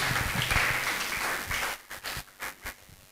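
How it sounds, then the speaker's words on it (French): A church congregation gives a woman a short round of applause, a dense patter of clapping that thins into a few scattered claps at the end, fairly faint. "Est-ce qu'on peut acclamer pour elle pendant qu'elle regarde sa place?"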